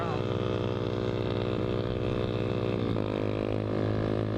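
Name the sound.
loud motorcycle exhaust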